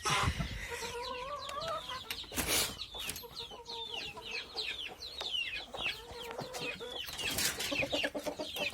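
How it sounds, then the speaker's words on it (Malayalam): A country rooster clucks and calls repeatedly close by, with other chickens chattering around it and no talking. "ഇതൊരു പൂവൻ കോഴി."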